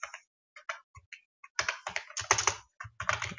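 Code being typed on a computer keyboard, starting with sparse scattered keystrokes and then turning into fast, dense, close-up clatter with short pauses between bursts.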